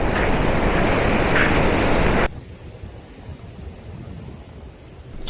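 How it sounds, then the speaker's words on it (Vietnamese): Pacific Ocean waves washing onto a beach in Tonga, a loud broad surge of surf that drops abruptly after two seconds to a softer, steady wash with wind rumble. "nghe sóng Thái Bình Dương vỗ"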